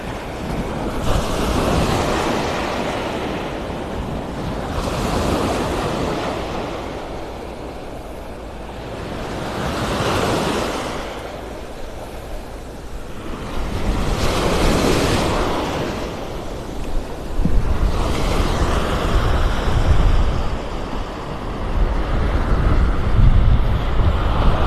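Waves roll onto a beach in North Naples, Florida, in slow repeating surges every few seconds, with steady wind buffeting the microphone throughout; no one speaks.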